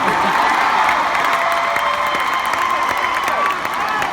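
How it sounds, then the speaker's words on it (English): A stadium crowd at a concert in Nissan Stadium, Nashville, roars with sustained applause and cheering, a dense wash of clapping and shouts. "Give yourselves a round of applause"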